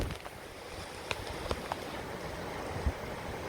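Tropical Storm Cristobal's wind on Dauphin Island, Alabama, whips against a camera held out in the open, making a steady, close, rough roar of buffeting with a few sharp knocks.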